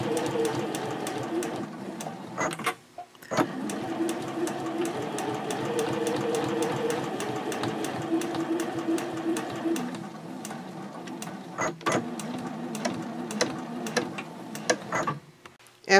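A sewing machine stitches a quarter-inch seam on a small fabric backpack card holder, running in a steady close whir with a few short pauses and restarts.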